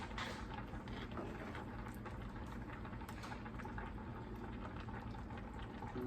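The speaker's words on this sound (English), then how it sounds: "Starting to come to a boil." Gravy in a pan on the stove coming up to a boil, a steady close bubbling and simmering hiss that holds at an even level throughout, with no talking.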